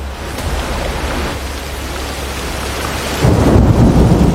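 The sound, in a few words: heavy rain with thunder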